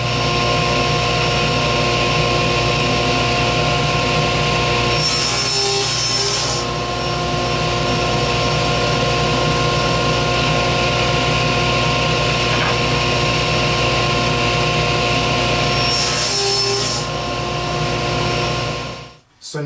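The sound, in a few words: power saw cutting wooden board to 20-inch length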